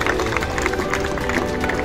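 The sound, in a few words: audience applauding to welcome the secretary and teachers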